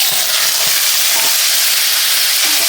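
Cauliflower hits hot oil in a preheated wok and erupts into a loud, dense, continuous sizzle and hiss, close up, with a few soft thumps of the pieces settling.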